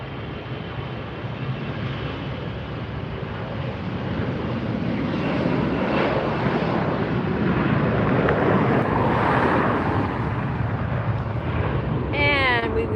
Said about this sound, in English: There goes our next Delta departure.